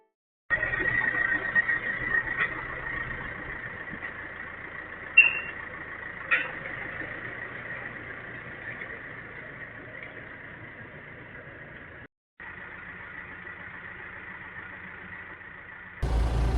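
A machine engine runs at a steady idle-like drone while scraping a farm yard, moderately distant with a few sharp clanks and a brief dropout near the end.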